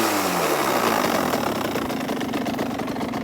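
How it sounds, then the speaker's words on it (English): A cheap used two-stroke motorbike engine idles close by, a loud, steady, raspy putter with a rapid uneven beat and no talking. "The bike runs."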